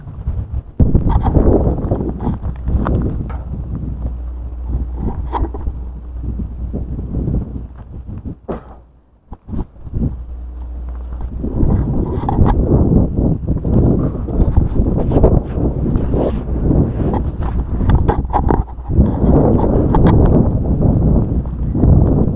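Strong outdoor wind buffets the microphone with continuous low rumbling and roaring gusts near a river, loud throughout and briefly easing midway before surging again.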